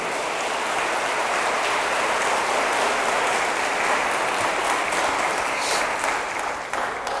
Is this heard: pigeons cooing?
no